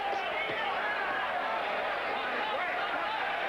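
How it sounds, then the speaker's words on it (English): A partisan Puerto Rican crowd at a WBC title boxing match stands between rounds, a dense, steady roar of cheering and chatter filling the arena while a commentator talks over it. "The partisan Puerto Rican crowd on its feet between rounds, hoping to see yet another Puerto Rican world champion"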